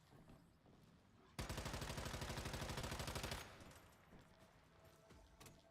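A plus 10 calibrated SMG in the shooter game Once Human fires one sustained rapid automatic burst of about two seconds, loud and even, over quieter game ambience.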